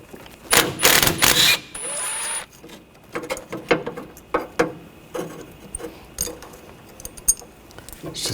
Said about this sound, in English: We're going to remove this bracket, use a 10mm socket.